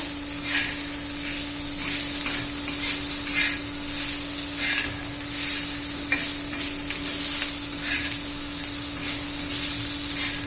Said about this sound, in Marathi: आता बटाटा घालायचा आपल्याला बारीक चिरलेला एकदम पातळ पातळ अशा फोडी करून घेतलेल्या आहेत आपण कारण तेलातच शिजल्या पाहिजेत त्या